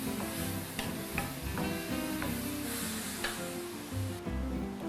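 Tomatoes and milkfish filling for stuffed bangus sauté in a pan, a steady sizzle with scraping stir strokes and clinks of the utensil throughout.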